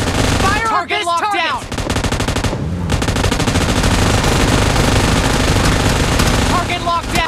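Heavy automatic gunfire in PUBG Mobile, loud, sustained rattling bursts almost without pause, with brief game voice callouts and tonal effects over the shooting.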